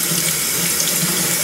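A badger shaving brush rinsed under a running hot tap, with a steady, loud rush of water splashing into a sink and no talking.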